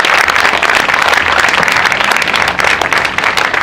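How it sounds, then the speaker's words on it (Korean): A large crowd gathered outdoors in front of Cheongun-dong community center in Seoul for a prayer meeting urging a Sewol ferry special law claps loudly and continuously, a thick, even wash of many hands throughout. "목사님께 힘찬 격려의 박수 다시 한번 부탁드리도록 하겠습니다"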